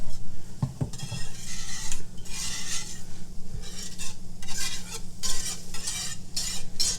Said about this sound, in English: I'm gonna let these start to sizzle